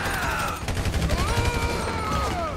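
Rapid overlapping gunfire fills a loud GTA V shootout, with bursts and volleys crackling continuously as whining tones slide up and down underneath and faint voices sit in the mix.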